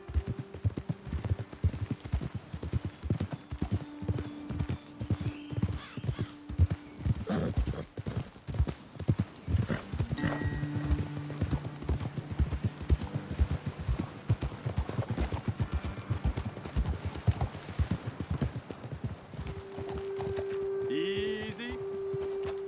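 Horses clip-clop along a trail in the Red Dead Redemption 2 video game, a steady close rhythm of hooves throughout, with a horse snorting briefly and a few faint other sounds underneath.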